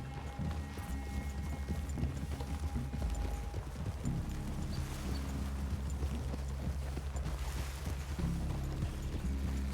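Horse hooves clip-clopping on a trail in Red Dead Redemption 2, a steady close rhythm of several riders over a continuous low ambient rumble, with no voices.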